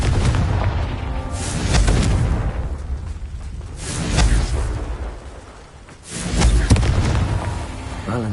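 Heavy booming blasts from the Confringo fire spell in the game Hogwarts Legacy roar in loud rolling waves, three big surges with a short lull between them.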